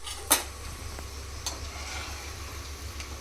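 Cashew nuts frying in a pan for Thalassery chicken biryani, a soft steady sizzle with a sharp utensil clink near the start and a fainter tap later, no voices.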